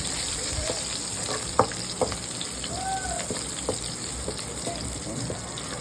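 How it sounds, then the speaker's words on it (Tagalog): Garlic frying in a pan until golden brown for a pork liver steak gives off a steady, close sizzle with a few light clinks and stirring knocks, and no one speaks. "Ilagay na po natin ang bawang. Golden brown lang natin ito."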